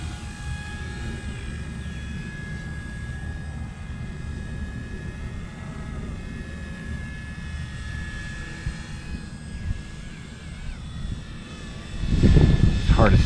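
Blade 150S RC helicopter flying outdoors in picking-up wind, a steady whining rotor drone with a high tonal whine, close to the microphone, plus a burst of wind rumble near the end.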